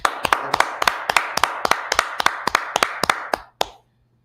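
Rhythmic unison clapping by a group at a Harlem gathering, about a dozen sharp, evenly spaced claps at a steady tempo ending with one final clap, close and fairly loud.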